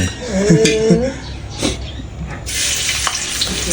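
Vegetables stir-fried in a large wok over a strong flame, with sizzling and scraping that keeps up steadily and loud through the stretch, spiking to a bright hiss toward the end, while a voice speaks briefly near the start.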